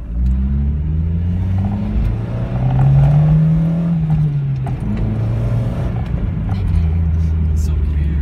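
Car fitted with a carbon fiber fart can exhaust, its engine droning and rising in pitch as it revs and accelerates, a steady nearby rumble held across the whole clip with faint voices.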